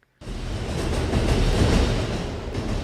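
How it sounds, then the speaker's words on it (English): Train station ambience from the video game Lost Judgment: a steady, loud rumble of a train running through the station, broadband and continuous, with no voices. "Oh shoot, it's a whole train station for real."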